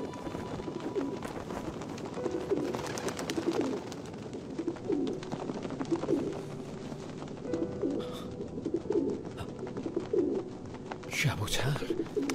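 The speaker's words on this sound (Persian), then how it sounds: "کبوتر" Pigeons coo in a repeated, rhythmic series over a steady background murmur, with a brief louder disturbance near the end.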